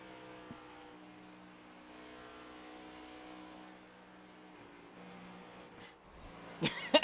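Stock cars in a racing video game at a Nashville superspeedway do burnouts: engine drone and revving hold steady, then sharp bursts of tire squeal near the end, with no voices.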